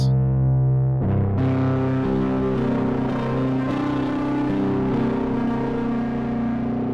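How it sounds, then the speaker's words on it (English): Baritone electric guitar run through delay and crunch distortion pedals, sustained chords ringing on with a dense, echoing distorted tone, loud and continuous with no talking. "We sampled the baritone guitars through some really cool pedals."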